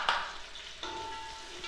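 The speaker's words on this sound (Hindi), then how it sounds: "तो गाजर को इसमें फ्राई कर लेंगे अच्छे से।" Carrots fry with garlic in a pan for vegetable fried rice, giving a short steady sizzle with a couple of quick stirring knocks.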